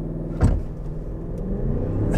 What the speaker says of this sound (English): So let's see what this twin turbo V8 can do.